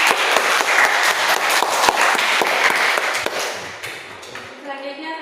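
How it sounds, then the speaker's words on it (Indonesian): An audience claps in a brisk, crowded burst of applause in a classroom setting, then fades out toward the end. "Oke, berikan aplaus."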